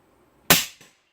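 A single suppressed shot from a Ruger American in 300 Blackout firing a 153-grain subsonic bullet: one sharp close crack, followed a moment later by a faint ring from a small steel bullseye target.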